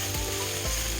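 Six or seven green chilies sizzle and fry in hot oil in a pan for chicken dum biryani, a steady close hiss running through a brief moment.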